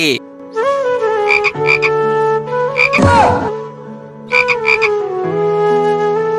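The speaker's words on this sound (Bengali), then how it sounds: "আরে এই ব্যাঙের সাউন্ড আসতেছে কোথায় থেকে?" Loud frog croaks repeat almost continuously in a chain of tonal, harmonic calls, with a brief rougher burst in the middle.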